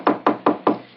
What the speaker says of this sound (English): So, knock.